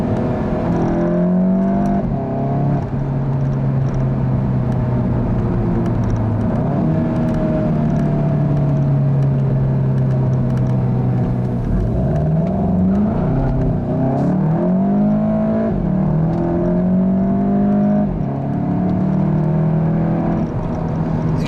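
A turbocharged 2015 Volkswagen GTI engine drones continuously and loudly, its pitch rising and falling as it revs and accelerates, heard from inside or close by.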